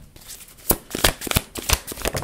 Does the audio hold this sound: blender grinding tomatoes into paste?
no